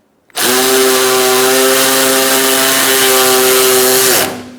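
A power tool whirs loud and close with a steady high-pitched tone as it tightens a bolt on the coolant reservoir of a 2002-2006 Honda CR-V, starting abruptly and winding down at the end.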